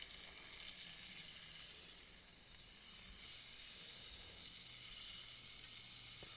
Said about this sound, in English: Brown sugar as it was searing there.